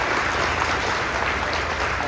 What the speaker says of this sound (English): if we could get a hand of applause, would be great for him